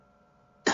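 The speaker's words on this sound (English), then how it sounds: "I'm going to have to cough loudly" A single loud, sudden cough bursts out close to the microphone after a near-silent moment.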